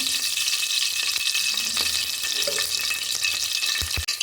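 Fennel seeds frying in hot oil in a pressure cooker give a steady, close sizzle, ending with a couple of sharp knocks against the cooker, with no voices.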